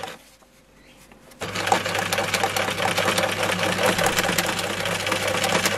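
A sewing machine runs steadily, stitching matched fabric pieces for a homemade face mask, starting after a brief quiet moment and continuing as a close, constant mechanical whir with rapid needle chatter.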